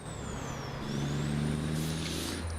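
A truck in American Truck Simulator idles with a steady low engine rumble while a soft hiss of air brakes rises briefly near the end, heard alone in a wintry drive north from Ottawa.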